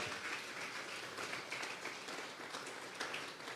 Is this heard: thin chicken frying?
no